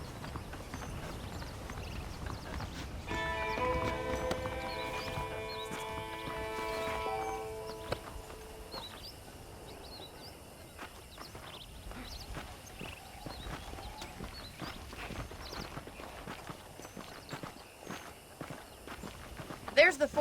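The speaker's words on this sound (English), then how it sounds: "The horses are saddled up over here." Saddled horses in the Red Dead Redemption video game clip-clop along at a steady walking rhythm, with a brief whinny, while voices talk over the hoofbeats throughout.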